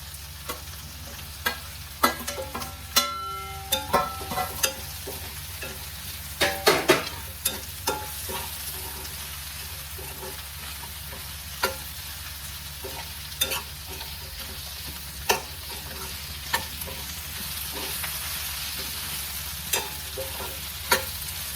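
Capsicum sizzling in a pan with softened tomatoes for a creamy paneer dish, a steady quiet frying hiss with scattered stirring clicks and scrapes of a spoon against the pan.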